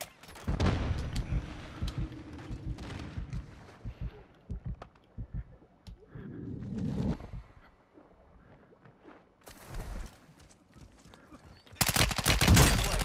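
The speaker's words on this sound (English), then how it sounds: "Taking effective fire." Incoming gunfire during a firefight near a gas station, rapid bursts of shots and heavy impacts coming in uneven volleys, loud and close at moments, with a few voices talking between them.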